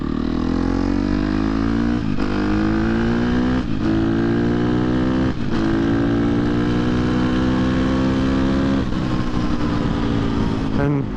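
A 2023 KTM 250 XC-F dirt bike with knobby tires rides on a street, its engine loud and close, revving steadily and rising in pitch through gears with brief dips at each shift.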